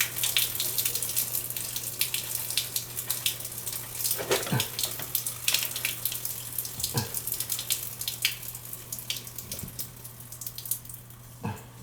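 Water runs and splashes out of a PVC pipe from a well system being drained, a steady wet rush with a few louder gurgles and drips, accompanied by a constant low hum.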